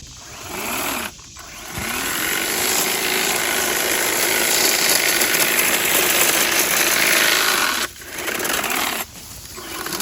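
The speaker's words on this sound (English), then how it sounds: "I have to use the hedge trimmer" A hedge trimmer cuts through tall woody weeds on a homestead, its motor buzzing loud and close in long sustained runs, dropping briefly twice as the blades pause.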